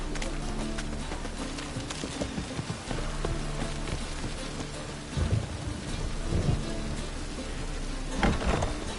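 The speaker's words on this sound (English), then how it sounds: "A storm, damn it." Heavy rain hisses steadily in The Witcher 3 while low rolling thunder swells and rumbles several times. The storm stays fairly distant and fills the whole stretch.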